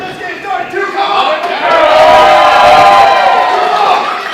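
Wrestling crowd at a live SCW independent match cheering and whooping loudly, swelling after the first second and a half into a sustained roar of many voices that holds to the end.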